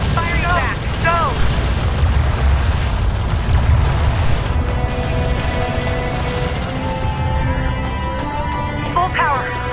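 Game battle from Homeworld: Deserts of Kharak, with vehicle gunfire and explosions making a dense, continuous roar of blasts and rumbling booms. Radio-style voices and beeping alerts sound over the fighting.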